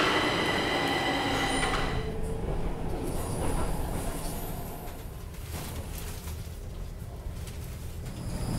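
A Stockholm metro train rumbles and rolls along the track, loud and close, with squealing wheels and a steady grinding roar that eases slightly partway through; no one speaks.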